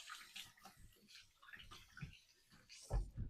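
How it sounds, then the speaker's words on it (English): Water runs over a hand to rinse off sticky apple pie filling, a soft splashing rush with brief louder spurts near the end, close by, with no voices. "But I'll do the proper thing and rinse it off."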